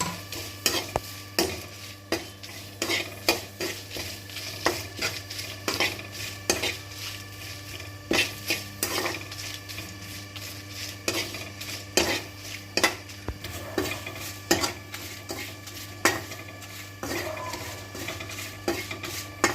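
Flax seeds and tamarind dry-roast in a pan while a spatula stirs and scrapes, producing close, rapid, irregular clinks and scratches over a soft continuous sizzle.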